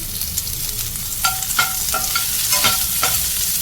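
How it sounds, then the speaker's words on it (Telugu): Green chilies frying in a pan with salt, a close steady sizzle broken by several sharp spoon clinks against the pan in the second half. "పచ్చిమిర్చి కూడా వేగిపోయి తీసేసుకున్నాం"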